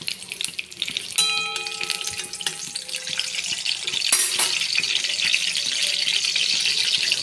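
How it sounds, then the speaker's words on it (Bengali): Bay leaves dropped into hot oil in a wok, a sudden sharp hiss that settles into a steady sizzle close by, continuing to the end. "কড়াই তেল দিয়ে দিয়েছি, তেলের মধ্যে তেজপাতা দিয়ে দিলাম।"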